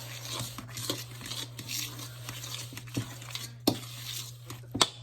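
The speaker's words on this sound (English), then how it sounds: "I do 1/2 cup of white sugar and 1/2 cup of brown sugar because I like the way the brown sugar tastes in this. And mix that around." White and brown sugar stirred together in a bowl for banana bread, giving soft scraping and tapping strokes with a few sharper clinks of utensil against the bowl, fairly quiet with no talk.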